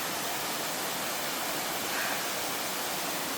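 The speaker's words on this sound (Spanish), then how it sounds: "Aquí hay una pequeña cascada" A small mountain waterfall in China rushes steadily, a broad, even hiss of falling water with no voices over it.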